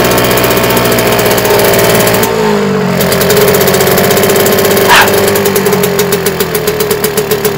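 A racing boat engine revs loudly and close, a harsh rumbling roar that shifts pitch mid-clip, then settles toward a lower, pulsing idle near the end.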